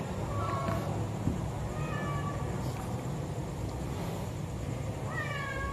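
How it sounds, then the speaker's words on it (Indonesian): A cat meows several times at close range, short rising and falling calls spaced through a quiet room, with faint background hum and no talk. "Kau balas apa ni kucing? Dia balas kita lah."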